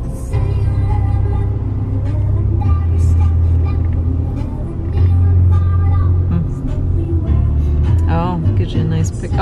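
A tour bus in Skagway, Alaska labors uphill, its loud low engine rumble droning steadily up close with surges, while people talk over it.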